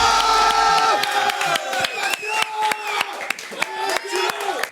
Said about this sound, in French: sur un tonnerre d'applaudissements, je vous prie d'accueillir Mathieu Ferreira